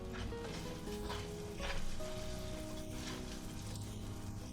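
Asafoetida and dried red chillies sizzle in butter and ghee, giving a steady, fairly quiet crackling hiss that runs continuously with a slight swell partway through.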